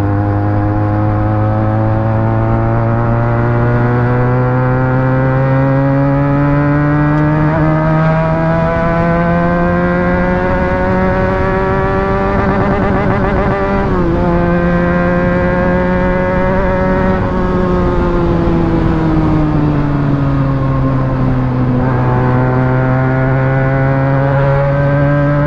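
A Benelli 300TNT motorcycle engine revs hard and holds above 7,000 to 8,000 rpm, its pitch climbing and dipping in steady sweeps, loud and close for the whole stretch with no talking.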